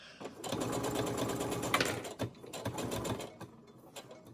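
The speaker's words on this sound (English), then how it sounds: "So I like to top stitch the seam for the front side of the mask." Sewing machine top-stitching the front seam of a fabric face mask, a steady close whirring run of stitches with a brief pause near the middle before the motor resumes and slows toward the end.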